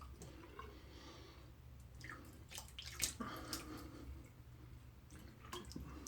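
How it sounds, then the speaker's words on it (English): Warm shaving-brush bloom water is poured out in quiet splashes and drips, a faint trickle with a few brighter splatters at close range. "I'm going to pour out my bloom water."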